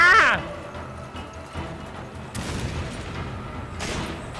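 Gunfire rings out in the video game Resident Evil 5, a sharp burst at the start followed by a few scattered, quieter shots and thuds under a busy game soundscape.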